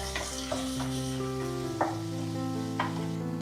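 Curry leaves and chopped ripe tomato sautéing in a pan for a jackfruit seed curry, a continuous close sizzle broken by a few spatula stirs, no talking.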